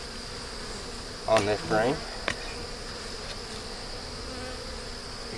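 Honey bees hum around a hive frame in a steady, close drone that holds throughout, with a brief spoken phrase partway through and a couple of faint knocks.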